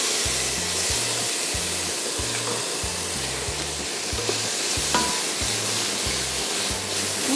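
Steady broadband sizzling of chopped tomatoes sautéing with ginger-garlic paste and salt in a frying pan, continuous and close, with a low rhythmic hum underneath and no voices.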